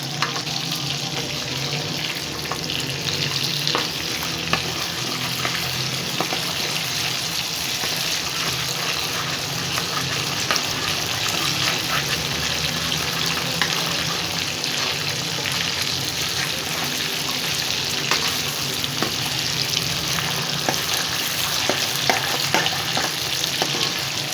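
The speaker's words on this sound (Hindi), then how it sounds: "अब इसमें शामिल करूँगी 1 चम्मच लहसुन अदरक का पेस्ट। इसको भी भून लेंगे।" Garlic ginger paste frying in oil in a kadai of chicken pieces for chicken Shinwari kadai, a constant loud hiss and sizzle with occasional scrape of a spoon, continuing steadily throughout.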